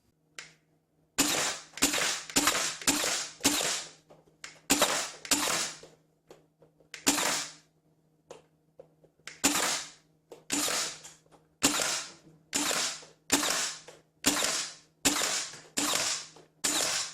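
A Colonel Wasp 77 foam blaster fires repeatedly: sharp, loud snapping shots in quick bursts with brief pauses between groups, each crack followed by a short mechanical priming clack, close to the listener and with no talking.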